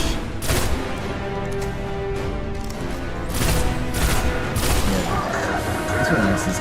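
Gunfire in the video game Destiny 1 crackles in dense bursts and bangs, loud and close, with repeated sharp impacts layered over a busy game soundscape.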